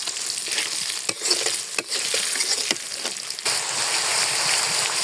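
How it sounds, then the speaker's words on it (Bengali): Potatoes seasoned with turmeric and salt fry in hot oil in a home kitchen, giving a steady, loud sizzle with a few stirring scrapes and clanks, no voices. "আলুতে হলুদ লবণ দিয়ে আলুতে হালকা ভেজে নিব"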